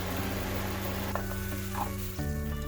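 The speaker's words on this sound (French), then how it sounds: "C'est de l'eau qui est en train de bouillir." Water boiling off in hot oil in a pan, a dense, loud, continuous crackling sizzle with steady bubbling and a slight shift in texture toward the end, no voices.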